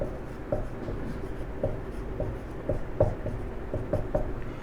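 Chalk or marker writing the electron symbol on a classroom board, a series of short scratchy strokes in an irregular rhythm, close and fairly clear with no talk over it.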